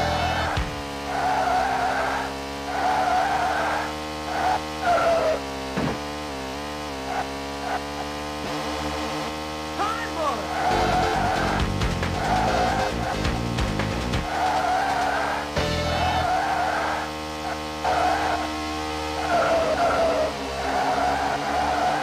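Stock car drifting through high-speed corners in the Sega 32X racing game Virtua Racing Deluxe, with loud sustained engine drone and long squealing tire skids rising and falling over game music, no talk.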